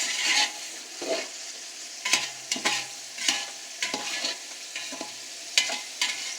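An onion, garlic and ginger masala for pulao is stirred in a pan over a high flame, with a soft steady sizzle and repeated scraping strokes of the spoon at an uneven rhythm.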